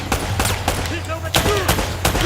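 Gunfire in Uncharted: Drake's Fortune, a string of sharp shots spaced across the moment, loud and close over a steady game background, with a voice talking faintly underneath.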